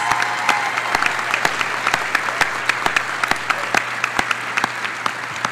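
Audience applause at an adult and graduate college commencement honouring graduating students, a steady wash of many hands clapping with a few sharper claps standing out, filling the space throughout.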